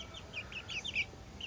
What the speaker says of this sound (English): This is definitely a little silky chicken,